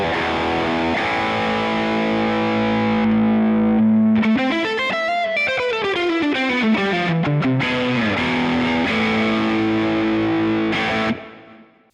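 Valenti Nebula electric guitar with a high-output humbucker played through distortion: sustained thick chords, then a gliding bend and fast lead run, back to held chords before fading out, loud and alone.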